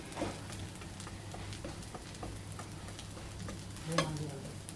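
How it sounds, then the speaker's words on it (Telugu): A kara dosa frying on a pan as a little oil is added, with a low steady sizzle, soft ticking pops and a brief scrape near the end, all quiet and close. "మా ఆయన కోసం కారం దోశ పైన కూడా కొంచెం ఆయిల్ వేసుకుంటున్నా"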